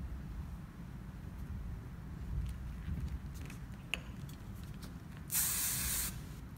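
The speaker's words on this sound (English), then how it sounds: "A little more spray or a little more water is always helpful." A short, bright hiss of a spray bottle spraying hair bursts once near the end, close and crisp, after quiet background rumble and faint small clicks.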